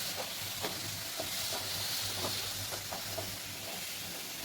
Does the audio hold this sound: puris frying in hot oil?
yes